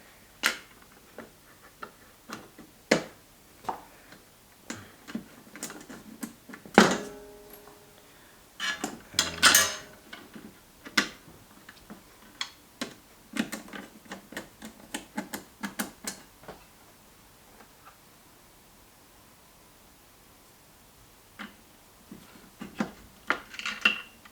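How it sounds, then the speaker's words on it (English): Small screws are driven into a Louqe Ghost S1 small-form-factor PC case, producing sparse metallic ticks, clicks and rubbing scrapes, with a denser cluster of clatter midway and quiet gaps between. "And now we put the screws in."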